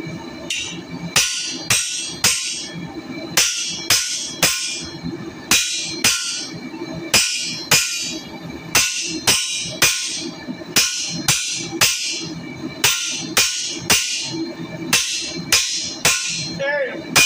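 A steady run of sharp, ringing hammer blows forging a copper arrowhead against steel, loud and close, about one or two strikes per second with a slight metallic ring after each.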